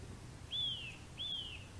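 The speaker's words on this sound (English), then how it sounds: "If you recognise a bird call," Faint birds call outdoors, two clear descending whistled notes about half a second apart, set against a low, steady background hum.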